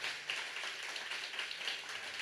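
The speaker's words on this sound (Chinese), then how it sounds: "掌声大一点！" Church congregation applauds during a Sunday service, a dense, even wash of clapping from many hands heard at a distance and fairly soft, continuing without voices.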